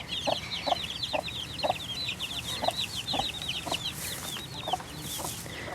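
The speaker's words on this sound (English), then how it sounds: "Mama Hen and her 10 chicks hatched out this year." A hen clucks softly in a steady, repeated rhythm while chicks peep in a high, continuous chatter, all at moderate distance outdoors.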